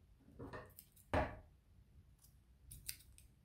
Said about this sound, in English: And then we can just cut the ends off